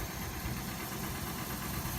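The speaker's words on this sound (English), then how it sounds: "listen to that North Star. Good Lord, it's knocking. Dad, you got it back. It's knocking pretty harsh." A GM Northstar V8 idles roughly on a cold start in snowy weather, a steady dense engine drone with a harsh continuous knock running through it, close to the engine with no talking.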